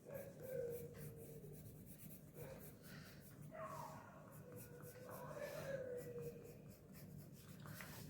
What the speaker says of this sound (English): This I am coloring it with my silver color pencil